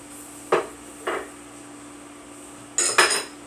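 An all-purpose flour roux being stirred in a pot on the stove, heard as a few separate sharp clinks of a utensil against the pot with quiet gaps between them.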